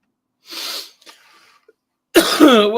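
A single sharp, breathy cough-like burst, then a few faint clicks and near silence before a voice abruptly starts talking.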